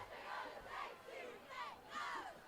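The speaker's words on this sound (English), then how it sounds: "they will start their legendary cheer that they've been doing for years" A high school football crowd chants its rhythmic traditional cheer at the start of a game, started by seniors at the track, in repeated swelling shouts from a distant mass of voices.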